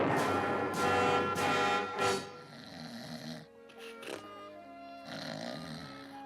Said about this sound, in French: Moi, j'aime pas ronfler.